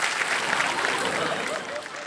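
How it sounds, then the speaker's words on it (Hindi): Loud, sustained clapping from a studio audience on a Hindi celebrity game show, a dense even roar that eases slightly near the end. "साजिद गिरे हुए इंसान के लिए जोरदार तालियां"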